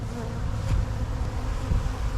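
Bees swarm and buzz around spilled syrup inside a truck, a steady close drone of many insects with passing individual buzzes.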